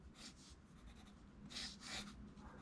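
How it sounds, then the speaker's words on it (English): A pencil sketches a rough animation layout on paper, scratching close and quiet in short bursts of strokes with brief pauses between them. "And then you can go over that in pencil, start darkening in pieces that you want"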